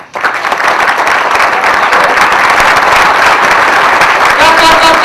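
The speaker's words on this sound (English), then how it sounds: "everyone clap." Loud, dense applause fills the room as the audience at an Art of Living introductory talk claps together without a break, a continuous close wash of many hands from start to finish.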